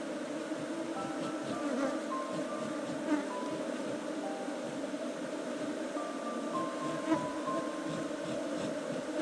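Aggressive honeybees swarm around an open hive, a dense and continuous close buzzing hum with individual bees droning past, steady throughout and with no talking.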